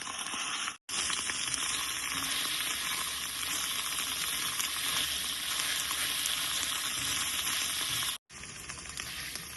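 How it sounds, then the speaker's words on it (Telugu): An egg fries in well-heated oil for homemade chicken fried rice, a steady close crackling sizzle that runs continuously, broken only by two brief abrupt gaps. "నూనె బాగా కాగిన తర్వాత మాత్రమే ఎగ్ని నూనెలో వేసుకోండి"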